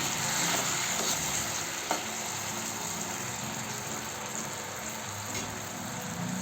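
Green chillies frying in a pan with lemon juice and lemon pieces, a continuous close sizzle with a soft stir and one sharp utensil tap, no one speaking.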